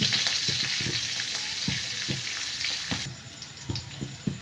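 Black cumin seeds and slit green chilies frying in hot oil give a bright, continuous sizzle, with soft rhythmic stirring taps underneath, heard up close.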